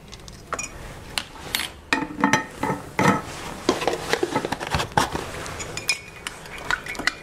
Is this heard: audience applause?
no